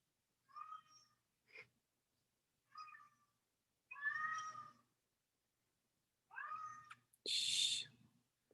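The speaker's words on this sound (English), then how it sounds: "Don't know why my cat thinks it's starving." A hungry-acting cat meows several times indoors, separate plaintive calls of varying length with quiet pauses between, the last cry followed by a breathy hiss-like burst, all fairly soft.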